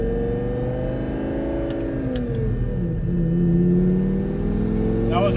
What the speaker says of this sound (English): So here we have a stop sign, and I just want to roll onto the throttle